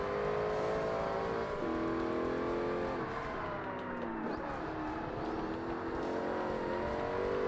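A Hennessy Viper race car in Forza Motorsport roars continuously at high revs, its engine pitch rising and dipping through gear changes as it races along. No voices are heard.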